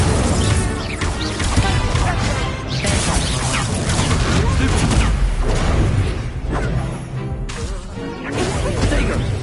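Confringo and Incendio spell blasts in a Harry Potter video game: loud, dense bursts of crashing, whooshing explosions that overlap and roll on without pause.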